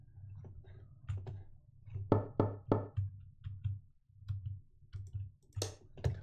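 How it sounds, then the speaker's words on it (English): Knocking on an apartment's front door in a horror game: a long, steady run of quick knuckle raps in small clusters, sharpest and loudest in the middle, then continuing more softly with a brief louder tap near the end. "Someone's knocking on the front door of the apartment."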